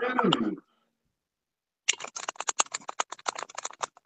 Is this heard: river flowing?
no